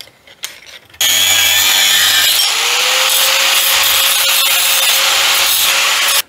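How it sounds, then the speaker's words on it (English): A power tool cuts about half an inch off the end of a steel bolt in a garage working on a 1940 Chevy, a loud steady grinding whine that starts abruptly and holds for several seconds. "Let me cut, I don't know, probably a 1/2 inch or so off the end of this bolt."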